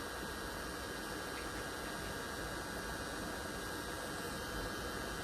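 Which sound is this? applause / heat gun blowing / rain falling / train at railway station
heat gun blowing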